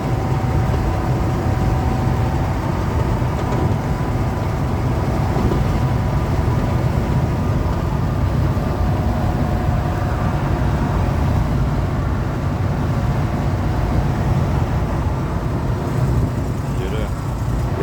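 Heavy truck engine running with its engine brake engaged while driving, heard from inside the cab. A loud, steady, rumbling drone holds for the whole stretch, with a faint tonal whine layered on top.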